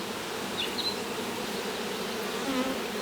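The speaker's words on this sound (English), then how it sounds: "Those bees are not happy with me, and now they're crawling all over my feet and legs." Honeybees from a freshly split hive buzz steadily and close by, a dense continuous drone with no talking over it.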